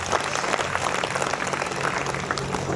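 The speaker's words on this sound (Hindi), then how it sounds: "एक बार ताली बजा दो भगत सिंह के नाम पे" An audience at a Hindi poetry recital applauds in honour of Bhagat Singh, a dense, steady burst of many hands clapping throughout, moderately loud.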